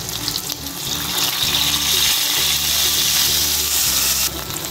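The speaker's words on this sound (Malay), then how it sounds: "Masukkan air untuk kuah yang korang nak cair ke, nak masam ke." Water poured into a cooking pot to make the sour broth for tenggiri mackerel in asam cuka, a loud continuous splashing rush that runs steadily for several seconds before easing.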